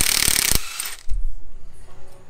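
A red impact gun loosening a 21 mm bolt on the suspension of a lowered MK7.5 VW GTI, one loud close burst of rattling hammering that stops abruptly, followed by quieter handling noises.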